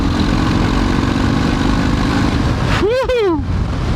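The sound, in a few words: Harley-Davidson FXDR motorcycle with 114 engine riding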